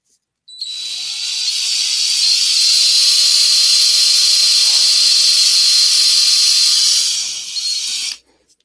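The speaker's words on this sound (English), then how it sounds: "So I'll drill a little hole right here." A small drill bores a little hole in a miniature wargaming model, a loud, close, high-pitched whine that spins up, holds steady for several seconds, then cuts off abruptly.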